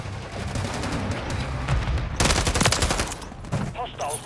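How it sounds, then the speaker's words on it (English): Gunfire in the Call of Duty Modern Warfare III multiplayer video game on the Scrapyard map, a steady crackle of shots under game noise that swells into a dense burst of automatic fire midway, then fades to scattered shots. "Taking effective fire."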